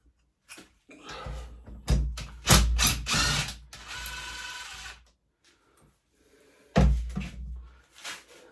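A ratchet wrench clicks in short bursts as a 10 mm bolt comes off a pit bike engine during a restoration, loud and close, with pauses between the runs of ratcheting.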